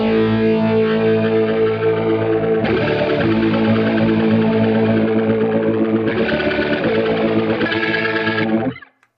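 A guitar played through the rotary effect on a Boss GX10 processor, its chords swirling and warbling as the rotor speed shifts between slow and fast sections, loud and distorted before cutting off.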